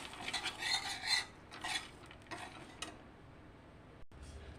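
Coconut pieces and peanuts fried and stirred in a pan, making bursts of scraping and clinking of a utensil against metal, loud at first and then fading to a faint hiss.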